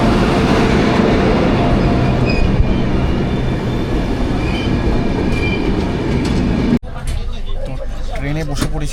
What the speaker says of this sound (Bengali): আমাদের ট্রেন ঢুকছে কুলিক এক্সপ্রেস 13054।